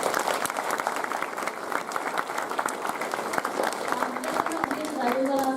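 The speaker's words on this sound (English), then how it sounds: "Let's give them a round of applause." Audience applause at a Year 10 school prize giving, a steady wash of many hands clapping throughout, with some voices and brief tonal sounds rising near the end.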